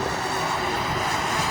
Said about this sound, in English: Well, burning tires. Tires are burning.